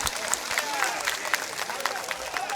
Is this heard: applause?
yes